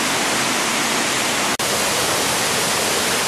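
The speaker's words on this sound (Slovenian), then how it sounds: "Zgornji slap je malo večji in lepši" Waterfall in a park near Cairns, Australia, pouring as a loud, steady broadband roar that fills the whole clip without pause, no voices.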